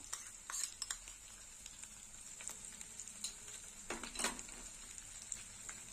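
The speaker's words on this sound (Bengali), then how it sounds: "একটু কষে নেবো। ভালো করে কষে নেব।" Green chili paste frying in a pan for an egg curry, giving a faint sizzle as it is stirred, with soft utensil scrapes and clicks, the loudest burst near the end.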